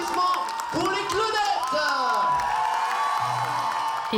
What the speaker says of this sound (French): Fais un triomphe d'applaudissements pour les Claudettes.